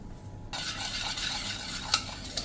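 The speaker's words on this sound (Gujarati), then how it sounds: "અને હવે આ બધું જ આપણે મિક્સ કરી લેશું." Chili powder, salt and spices being stirred together in a bowl for dahi vada, a steady close scraping and stirring rustle that starts after a brief quiet pause, with a couple of sharper clinks near the end.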